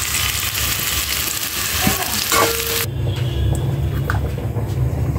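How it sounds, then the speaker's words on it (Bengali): Onions frying in a pan while being browned for a winter-vegetable khichuri, giving a steady, close, dense sizzle that shifts to a softer, lower frying hiss about halfway through. "এবার পেঁয়াজ দিলাম, পেঁয়াজটা ভেজে রেখে দিব"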